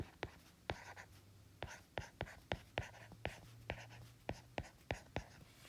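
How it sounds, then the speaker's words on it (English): Marker or pen strokes on a page while a quadratic's vertex form is written out: a steady series of sharp, close taps and short squeaks, about a dozen strokes in quick irregular rhythm, with no talk. "So I'm going to write vertex form right up here."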